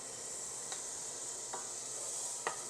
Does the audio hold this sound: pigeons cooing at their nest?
no